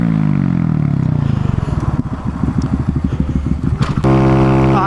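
Loud Honda Grom motorcycle riding close by, its engine throbbing in rapid pulses and revving up, then holding a steady higher drone at the end.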